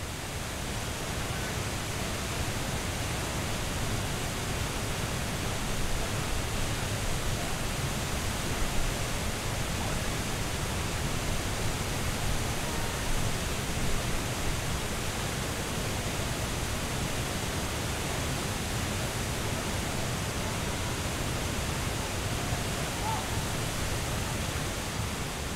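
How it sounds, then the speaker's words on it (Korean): Cheonjiyeon waterfall on Jeju Island roars as a constant, dense wash of falling water, steady and loud with no breaks for the whole stretch. "블루 에티 엑스 도라르방 에디션 마이크로 처음 담은 소리는 제주 천지연 폭포의 소리입니다"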